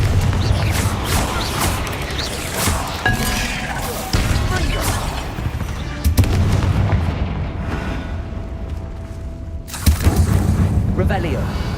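Booming fiery blasts from the Confringo spell in Hogwarts Legacy, several heavy bursts with rumbling decay spread across the stretch, mixed with game effects and occasional speech.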